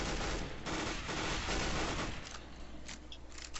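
Rapid gunfire in a Counter-Strike: Global Offensive zombies custom map, a dense burst of automatic shots for about two seconds, then scattered single cracks as it thins out.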